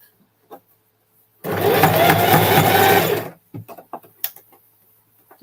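Sewing machine top stitching with a zigzag stitch runs in one steady mechanical whirring burst of about two seconds, followed by faint handling noises and brief voice sounds.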